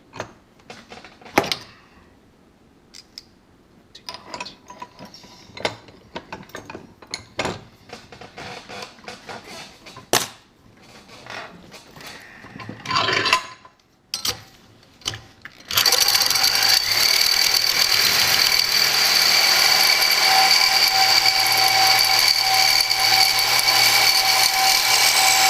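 A reciprocating saw bites into a wrench of hardened tool steel, starting with scattered knocks and handling noises before the blade engages around midway and settles into a loud, steady, high-pitched grinding cut that carries on unbroken.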